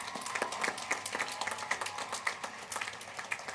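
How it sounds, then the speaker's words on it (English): Graduating students at a high school commencement ceremony receive applause from the audience: a steady wash of many hands clapping at moderate distance, with sharper individual claps poking through, sustained without talk. "Let's give them another round of applause."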